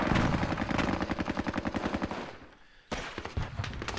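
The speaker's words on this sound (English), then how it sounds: "He's firing widely here now." Rapid bursts of machine-gun fire in the Squad Battles Tour of Duty war game, evenly spaced loud rounds that pause briefly before another volley resumes, with no talking.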